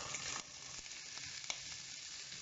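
Onions dropped into a hot pan of rendered duck breast fat sizzle loudly and steadily, a dense crackling hiss that holds throughout with no voices over it.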